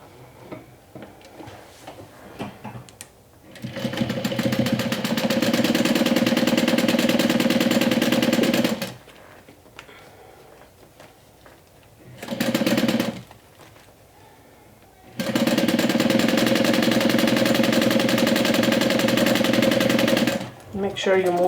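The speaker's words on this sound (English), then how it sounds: "you can sew on top of the first line of stitching or just sew with a 1/4 of an inch seam allowance again" Sewing machine stitching a zipper seam on a swim tote, running in three bursts: a long steady whir, a short run, then another long stretch, with quiet pauses between.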